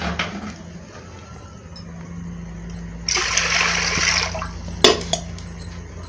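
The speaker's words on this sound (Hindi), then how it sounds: "2 गिलास भर के प्रेशर कुकर में पानी डाल देंगे।" Water pours and splashes into a metal pressure cooker for about a second, close up, followed by a clink of metal.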